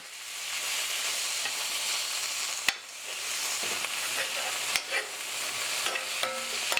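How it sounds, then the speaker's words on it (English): Snow peas stir-frying in a pan for a salmon stir fry, a steady close sizzle broken by sharp utensil clacks and scraping tosses, without any talking. "And I'm going to put my snow peas in too, because they can be a little tough and take a bit to cook."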